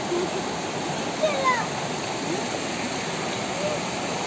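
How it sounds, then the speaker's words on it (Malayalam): Steady rush of water pouring at Ezharakund waterfall, a broad even roar with faint splashes, close and continuous, with no clear voices. "വെള്ളം ഒഴുകുന്ന സൗണ്ട്"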